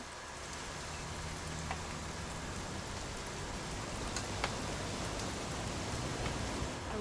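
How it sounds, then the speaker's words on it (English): Steady, even rain hiss in the video game What Remains of Edith Finch, with occasional louder drops, constant in level throughout and no voices. "It's gonna rain the whole weekend,"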